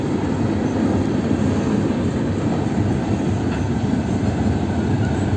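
A KCSM freight train hauled by paired GE GEVO locomotives rolls past nearby, giving a loud, continuous low rumble and roar of wheels and engines that stays steady throughout with no talk.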